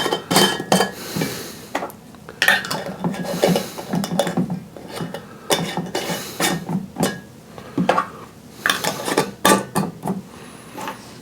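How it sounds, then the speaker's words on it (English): Lids go onto jars of pineapple upside-down cake moonshine with repeated sharp clinks and metallic clatters of glass and metal, irregular bursts spread across the clip, close and fairly loud. "So all we got to do is put some lids on this stuff."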